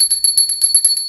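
A small bell rung before a tarot reading gives a run of quick, bright, high metallic tinkles, evenly paced and close, with nothing else audible.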